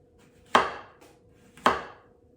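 A knife cuts white zucchini diagonally at a 45-degree angle into quarter-inch slices on a board for Korean jeon, with two crisp, separate chops about a second apart in an otherwise quiet kitchen.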